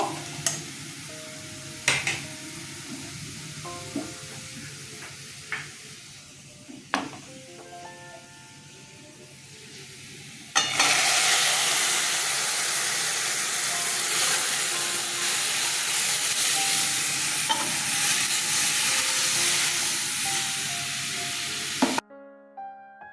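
Boiled red lentil dal is poured into hot oil with fried onion tempering, setting off a loud, steady sizzle after a few scrapes and clinks of stirring, then hissing evenly until it cuts off.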